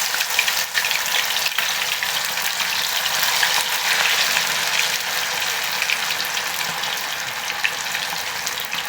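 Fish slipped into hot oil for a crispy fry, giving a steady, loud broadband sizzle that holds evenly throughout with small crackling spits and no voices.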